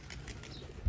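A pigeon takes off beside a net, giving a brief, faint flutter of flapping wings that lasts under a second.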